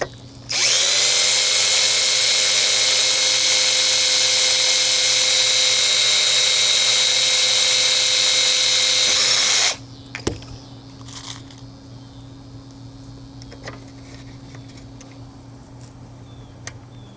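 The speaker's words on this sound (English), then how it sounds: "I drill the hole." A loud power drill whines steadily for about nine seconds drilling a hole in a car door panel, then cuts off, followed by a few faint knocks and quiet background hum.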